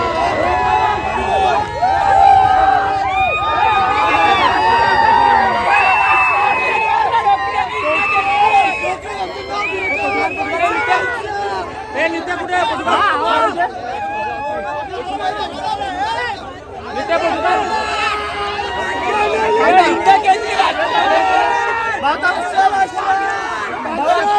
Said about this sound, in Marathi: मित्रांनो जल्लोष चालू आहे कृष्णा आणि लक्ष विजय झालेला आहे